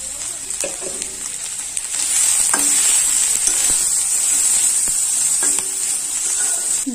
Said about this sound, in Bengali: আদা বাটা, মশলাটা ভালো করে কষাই করে নেব